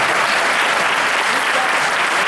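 A seated group of attendees at a Jain teaching session claps hands together in dense, continuous applause, loud and close, with no pauses across the short burst.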